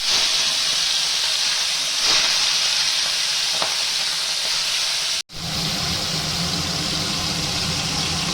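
Prawns hit hot mustard oil in a wok with a loud, hissing sizzle that holds steady, broken by a brief cut partway through before the frying roar resumes, close and full.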